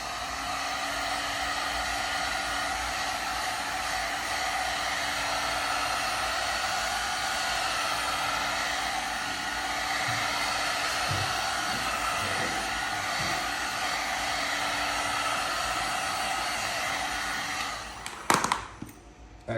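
A hair dryer blows steadily and close by, heating a Micro SnapJaw hood, its even whooshing hum running almost the whole time before cutting off near the end with a few clicks and knocks.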